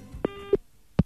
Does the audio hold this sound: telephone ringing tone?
yes